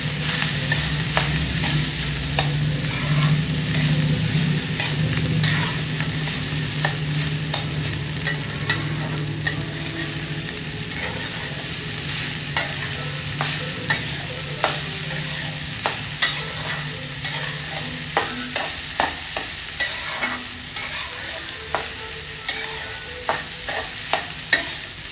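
Lemon rice being stirred and mixed in a hot pan, a steady close scraping and tossing with soft sizzling underneath, spoon strikes clicking at a quickening irregular rhythm throughout.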